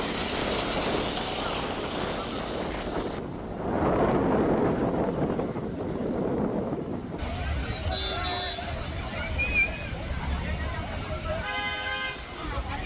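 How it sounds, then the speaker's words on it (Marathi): Heavy monsoon rain at Lonavala, a dense continuous roar of downpour, with a reporter talking over it and passing traffic and car horns sounding in the later part. "लोणावळ्यामध्ये धुवाधार पाऊस सुरू आहे"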